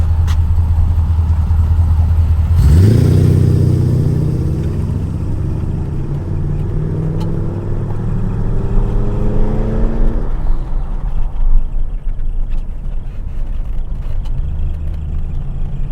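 A Mercedes W123 converted to a 560 V8 engine starts up with a loud low rumble near the start, then settles into a steady close idle with some rising revs before dropping back to a lower hum.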